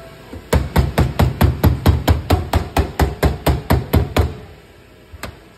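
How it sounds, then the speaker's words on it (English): A rapid, even series of about eighteen sharp hammer blows on a metal paint can lid, then a pause and one final lighter tap. "then we hammer it down and put it in the shaker."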